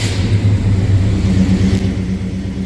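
A 1976 GMC K10 4x4 High Sierra pickup with a V8 engine starts easily and runs steadily at idle, a loud, close, low rumbling drone that lasts throughout with a slight rise near the start, and no talk.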